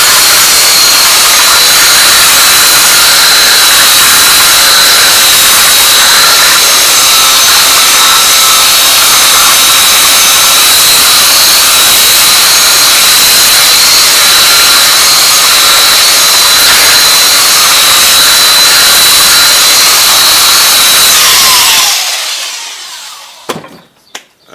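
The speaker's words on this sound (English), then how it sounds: "I have my Makita belt sander set up. We're going to go with the grain." A Makita belt sander with an 80 grit belt runs loud and steady across wood along the grain for about twenty seconds, then winds down, followed by a couple of light knocks.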